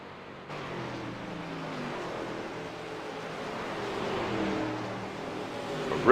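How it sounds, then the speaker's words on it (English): Race car engines at a PADD main event drone steadily as the cars rev across the line, a continuous layered mechanical roar at moderate distance that swells slightly toward the end. "We're going to listen to those engines as they rev them as they go across the line."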